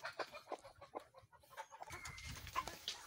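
Native Bisaya chickens clucking close by in short irregular bursts, with faint rustling and other farmyard noise around them.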